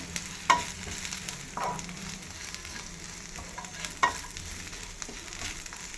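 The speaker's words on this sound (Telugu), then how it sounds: "ఇప్పుడు గసగసాలు, స్టార్ 2 వేసేసుకున్నాం. ఇది కూడా కొంచెం రోస్ట్ కావాలి." Poppy seeds and two star anise roast in a pan with browned onions for a sambar. A soft, steady frying hiss plays close up, with a few sharp clinks and scrapes of a stirring spoon.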